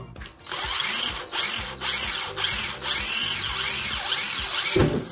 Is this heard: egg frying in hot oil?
no